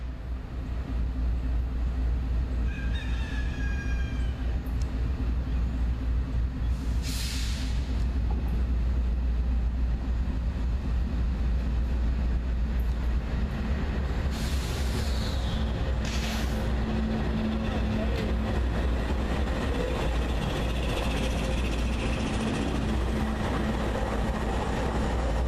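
A long freight train of 120 empty cars rolls past on the Buchanan Branch in a steady, loud, continuous rumble. Wheel squeals and clanks stand out, and a brief horn-like tone sounds early on.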